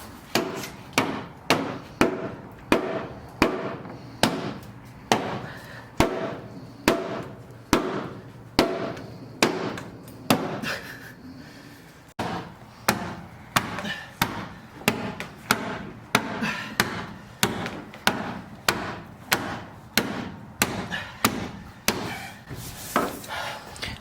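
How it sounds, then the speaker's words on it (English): Metal being hammered on the firewall pinch seam of a Jeep Renegade, a steady run of sharp, loud impacts repeating about once per second, with a brief pause partway through and no talking. "we're hammering it in on the actual firewall just for more clearance"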